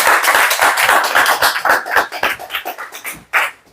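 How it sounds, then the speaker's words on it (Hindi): Close, crisp clapping from a business-plan presentation crowd, quick irregular claps that come in uneven bursts and thin out toward the end. "जोरदार तालियां दोस्तों इस प्लेटफॉर्म के लिए होगा।"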